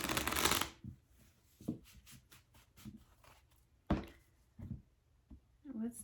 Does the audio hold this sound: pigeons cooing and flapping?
no